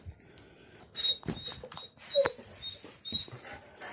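A dog in a garage during an Audi A6 oil change whimpers in short high squeaks and pants softly nearby, with shuffling and light clatter around it.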